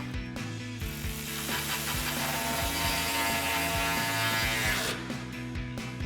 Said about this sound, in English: Tighten that back down with our 10mm socket.